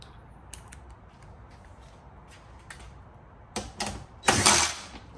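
A ratchet with a 5/16 socket clicks while unbolting a door bolt on a Tesla Model Y. Faint ticks come first, then louder bursts of ratcheting close by.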